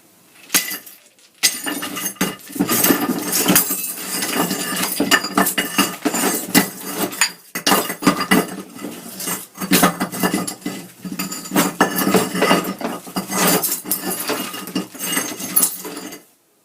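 Glass and metal cutlery clinking and rattling for foley, a busy, loud sequence of repeated chinks and clatters with brief pauses between bursts.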